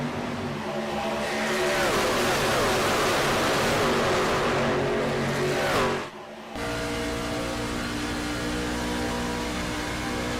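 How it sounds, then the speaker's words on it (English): Racing trucks in the iRacing game NWRS Spring Truck Series at Atlanta roar in a dense, continuous engine drone with rising revs, cut by a brief dip before the steady rumble returns. "All the sound of those trucks rumbling down into turn number 3 and 4."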